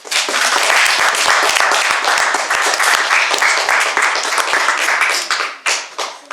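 A room full of people claps enthusiastically, dense and loud applause lasting several seconds before tapering slightly at the end.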